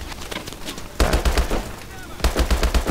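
Rapid automatic gunfire in the video game Call of Duty: Advanced Warfare, in loud, punchy bursts, with heavy volleys kicking in twice amid continuous shooting.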